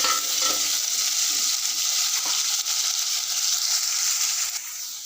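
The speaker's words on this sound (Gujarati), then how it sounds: "તેલમાં બટાકા છોડવાથી જલ્દી શાક ચડી જાય છે." Potatoes fry in hot oil with a dense, steady sizzle that stays loud and close throughout, with faint stirring scrapes underneath.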